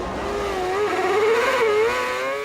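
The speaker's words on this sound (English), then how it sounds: "The sound of 22 cars revving up in the sunshine meant only one thing" Formula 1 cars rev together at the 2008 Melbourne race start, a loud, dense, high-pitched engine chorus with rising and wavering tones over a couple of seconds.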